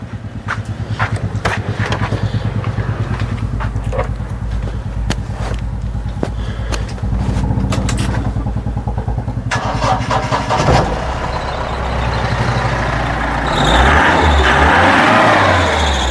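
A 2018 Mahindra Bolero Pickup 1.5 engine cranks with rapid ticking, then catches and settles into a steady idle rumble that grows rougher and louder near the end.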